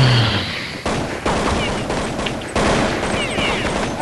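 Rapid gunfire from a Counter-Strike 1.6 match, dense overlapping shots and bursts close up and loud, continuing throughout with brief shifts in intensity.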